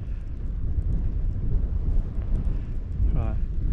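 Wind buffets the microphone on the slopes of the active Krakatau volcano, a low continuous rumbling roar, with a person talking briefly near the end.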